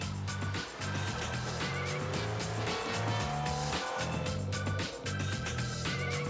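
Onboard a rally car at Targa Newfoundland 2004 chasing a Mustang, the engine drones loud and steady with gear shifts and brief dips in revs as it charges along the road.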